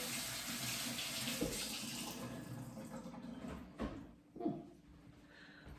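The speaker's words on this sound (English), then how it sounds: "Let me rinse my hands." Water runs from a tap in a steady stream, then shifts and splashes as sticky hands are rinsed under it before the flow eases off.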